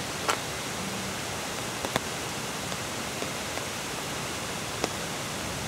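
A waterfall heard on a walk through a Japanese village, a steady, dense rushing roar filling the whole clip with constant loudness, and a few faint clicks and taps on top.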